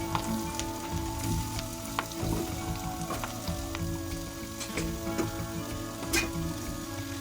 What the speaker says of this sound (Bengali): এখন আমরা গরম তেলের উপর ম্যারিনেট করা আলুর টুকরোগুলো যোগ করে দেবো